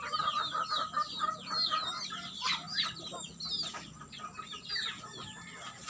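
Many baby chicks crowd around their feed, chirping nonstop in rapid, high overlapping peeps that stay loud and close throughout.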